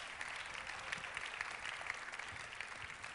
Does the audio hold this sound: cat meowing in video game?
no